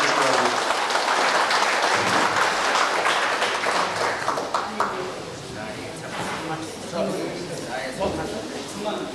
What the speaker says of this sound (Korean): 박수로 좀 축하해 주시기 바랍니다